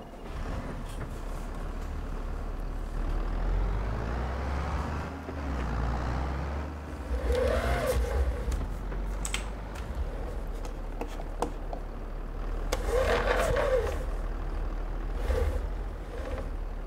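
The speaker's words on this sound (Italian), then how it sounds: "vado a prendere il trattore con il giusto rimorchio e poi" A tractor pulling a trailer in Farming Simulator 22 rumbles along with a low steady engine drone, punctuated by a couple of sharper hissing, clanking bursts like brakes or hitch noises.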